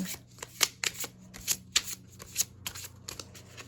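A new tarot deck, Tarot of the Golden Wheel, is riffled and shuffled in quick crisp bursts, close up, with a soft rhythmic flutter and brief pauses between riffles.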